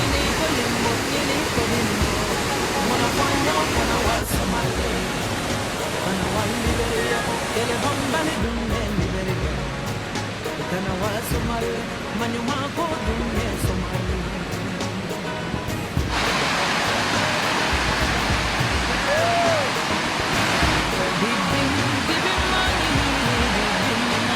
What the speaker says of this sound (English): This is as close as you can get to Victoria Falls.